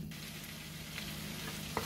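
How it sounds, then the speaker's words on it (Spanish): Chicken and other ingredients stir-frying in a pan for Chinese-style fried rice, with a continuous close sizzle and a few light scraping stirs, no talking. "Agregamos el pollo. Y así pues sofreímos"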